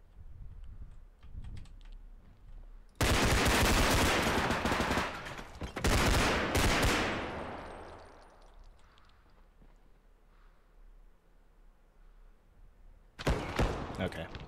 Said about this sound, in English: A lot of gunfire.